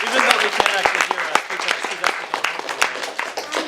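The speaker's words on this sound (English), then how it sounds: "let's give a big round of applause for them." An audience at a Rubik's Cube competition awards ceremony claps, with sharp scattered hand claps building into steady applause over a brief murmur of voices.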